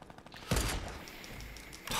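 Gunfire in Fortnite shoots through a tree: a loud, sharp blast rings out and is followed by a sustained rumbling echo, then another shot bursts in at the end.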